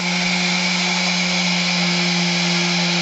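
A camper van panel is sanded with a power sander, giving a steady, continuous whirring hum with a fixed tone that runs close and unbroken for the whole stretch, with no talk.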